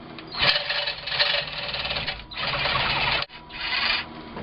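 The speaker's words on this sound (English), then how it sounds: "I'm going to put 3 cuts in the pipe" A battery-powered cutting tool slices slits into a steel exhaust pipe on a Chevy Silverado 5.3L V8 during a glasspack install, giving a loud, close, harsh grinding whine that runs continuously with a brief break near the end.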